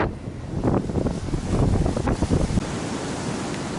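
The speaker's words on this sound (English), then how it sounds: "Very windy." Strong wind buffets the microphone in loud, rumbling gusts, easing slightly toward the end.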